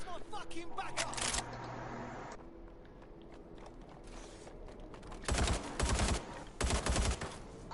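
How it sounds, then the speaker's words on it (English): A Negev machine gun in Watch Dogs Legion fires sharp automatic bursts, one early and two louder rapid volleys near the end, with quieter game ambience and someone talking between them. "out of all the guns in this game, the Negev is probably one of my favourites"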